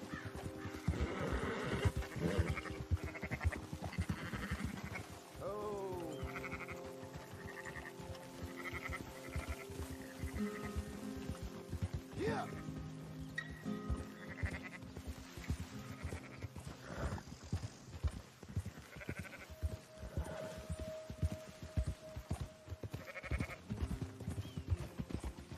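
Sheep bleating repeatedly in Red Dead Redemption II, mixed with horse whinnies and hoofbeats and game background sounds, the calls scattered and moderately close over a continuous bed of ambient noise.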